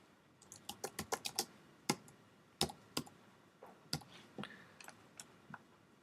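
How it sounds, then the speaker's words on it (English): Computer keyboard typing while text is entered in Illustrator: irregular bursts of crisp, close key clicks, some clustered quickly and others spaced apart, with no voices. "And I'm typing in some text."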